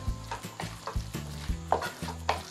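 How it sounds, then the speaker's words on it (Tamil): A spoon stirs mushroom masala in a sizzling pan, scraping and knocking in an irregular rhythm of close, distinct strokes over a soft frying hiss. "இதை நல்லா கிளறிட்டு மேலே இந்த கடல மாவை லாஸ்ட்டாக போட்டுக்கலாம்."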